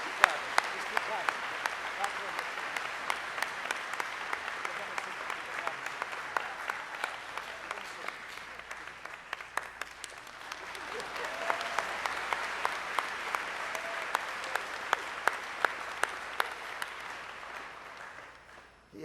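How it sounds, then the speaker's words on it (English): An audience at a 2017 high school commencement claps continuously for a graduate, a steady spread of hand claps swelling slightly midway, with a voice speaking over it. "Just keep clapping, don't stop. Just keep clapping."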